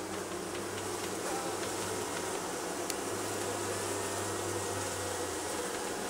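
A honeybee colony inside a pantry closet hums in a dense, continuous, low buzz that holds steady throughout, close and unbroken, with no talking.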